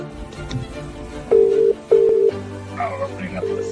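Telephone line tones: two long steady beeps in a row, followed by ringing and a muffled hold line with a soft background hum, fairly loud and with no talking.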